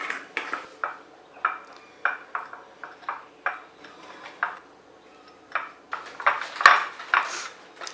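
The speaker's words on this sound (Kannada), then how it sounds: "ಈಗ ಇದನ್ನು ಚೆನ್ನಾಗಿ ಮಿಕ್ಸ್ ಮಾಡ್ಕೊಳ್ಳೋಣ." A spoon mixing cinnamon paste in a bowl, a series of light clinking taps and scrapes against the bowl in an irregular rhythm, close and clear with no talking.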